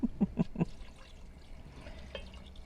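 Water poured from a cup into a cooking pot of chicken pozole inside a van: a few quick gurgling glugs at the start, then a thin, faint trickle that fades into a quiet background.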